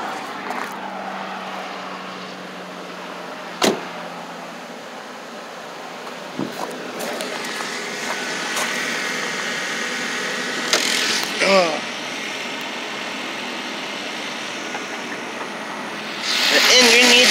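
A 2007 Ford Focus engine idles after a cold start, a steady hum above 1,000 rpm heard up close. A few brief clicks and knocks occur, and a louder whoosh comes near the end.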